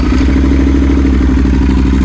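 A 2013 Yamaha XT1200Z Super Tenere twin fitted with a full Arrow exhaust idles loud and close, a steady, deep, rhythmic thumping rumble with no voices over it.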